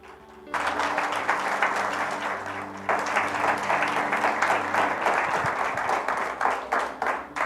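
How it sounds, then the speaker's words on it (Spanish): Church congregation bursting into sustained applause after a sermon line, broad steady clapping filling the room for several seconds with a low organ or keyboard tone underneath. "Aplausos al Señor."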